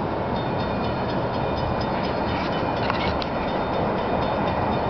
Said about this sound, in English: this is a second train that's about to come over